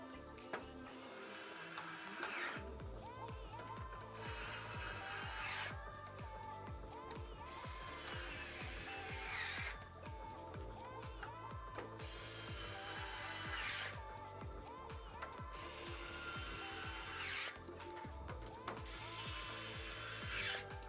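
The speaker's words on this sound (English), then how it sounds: "now grab our wow stick, tighten this up" A Wowstick electric screwdriver tightens screws inside a Corsair 5000D Airflow PC case, giving repeated short whirring and ratcheting bursts separated by brief pauses, with steady mechanical clicking throughout.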